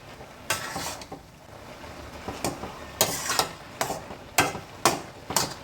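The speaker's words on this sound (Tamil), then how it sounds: "இப்போ மூடியை திறந்துட்டு இப்படி நம்ம நல்லா கிளறி கொடுத்து வேக வைக்கலாம்." Carrot halwa cooking with ghee and cashews is stirred in a pan, giving a series of close scraping, sizzling strokes in an irregular rhythm, each a short bright burst of spoon against metal, with no talking.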